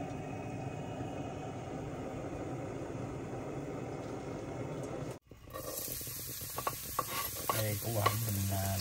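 Food is stir-fried on a gas stove, a steady loud sizzle and hiss with the burner's roar beneath. After a brief cut, a fresh hot sizzle follows with clattering stirring and scraping, close by and without talk.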